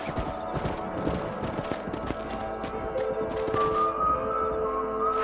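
Horse hooves clip-clop in the Xbox 360 game Red Dead Redemption, a dense run of quick, close hoofbeats over a steady musical tone, with faint hints of other game sounds.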